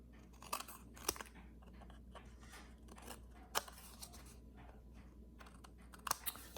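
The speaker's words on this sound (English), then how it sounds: "just take your scissors" Scissors snip and crunch through paper in a series of sharp, irregular cuts over a steady low background hum.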